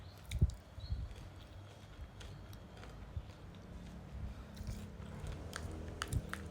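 Someone eats a grain yogurt mostly made of oats, with close, soft chewing and occasional crunchy bites at an irregular pace, fairly quiet and with no talking.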